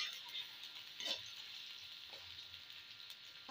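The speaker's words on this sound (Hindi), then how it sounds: "प्याज को हम थोड़ा सा गोल्डन फ्राई करेंगे" Onions fry in oil in a kadhai, giving a soft, steady crackling sizzle with a few light spoon taps, close and quiet.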